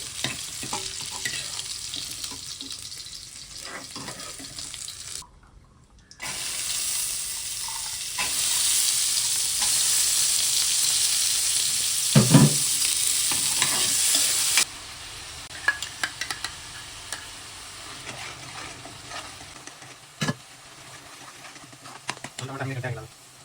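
Masala sizzles and crackles in hot oil while a spoon scrapes and stirs the pan, the frying swelling louder midway and then easing; a person talks at times over the cooking.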